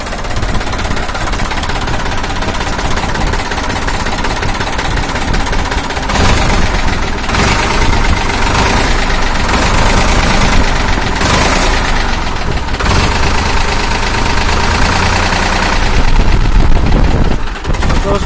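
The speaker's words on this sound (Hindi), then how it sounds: "राजा स्टार्ट कर दिए एक बार। ये ट्रैक्टर फोर सेल का है" A 2000 Farmtrac 50 tractor with a 47 HP diesel engine idles nearby, loud and steady with a rapid knocking chug that swells slightly midway, and faint voices sit underneath.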